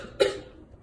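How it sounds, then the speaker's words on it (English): A single short, sharp cough from a young woman recovering from illness, close and clear against quiet background. "I'm still coughing"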